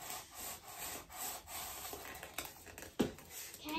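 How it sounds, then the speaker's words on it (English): A styrofoam piece is sawn by hand for a DIY Halloween door knocker craft, producing steady rhythmic rasping strokes up close, with a sharper scrape near the end and no talking. "Start this way and just start sawing."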